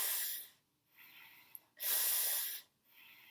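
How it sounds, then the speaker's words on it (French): A person practises snake breathing, drawing air in through the teeth: close, hissing inhales come in several bursts, two of them long and strong, with short silences between and no talk. "Vous prenez, vous aspirez l'air en fait par les dents."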